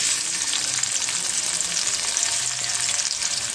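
Onions frying in hot oil in a pan while preparing a spicy dried-fish dish, a steady loud sizzle with faint stirring, no talking.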